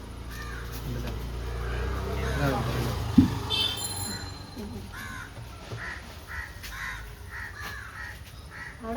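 Crows caw repeatedly outdoors, their harsh calls rising and falling over several seconds at moderate distance, while people talk in the foreground.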